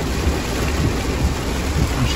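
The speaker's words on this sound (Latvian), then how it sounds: "Vēl pērkons." Heavy rain pours in a steady loud wash while a low rumble of thunder rolls beneath it, close and continuous throughout.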